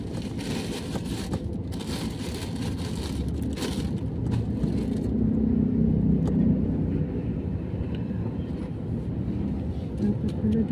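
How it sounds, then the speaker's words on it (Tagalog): Road traffic with cars passing, a continuous low engine rumble and the swell of a vehicle going by, with people talking over it now and then. "Traffic pa, yan."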